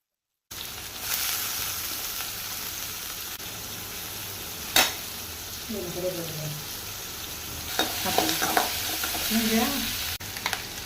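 Onions and green chillies fry in a pan with a continuous sizzle and intermittent stirring scrapes, including a sharp clack midway and busier stirring toward the end.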